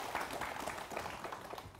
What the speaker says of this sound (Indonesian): Tepuk tangan buat guru kita Bib Muhammad Syah.